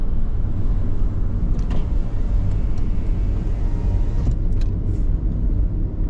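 Steady city road traffic along Estrada da Ponta da Cabrita on Taipa Grande Hill in Macau: a continuous low rumble of passing cars and vehicles with a few brief hisses, heard from the roadside and unbroken throughout.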